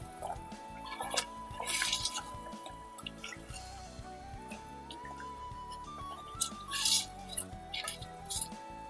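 Vada curry simmers in a pot with soft bubbling and popping plops and gentle liquid patter, close but quiet, under faint background music.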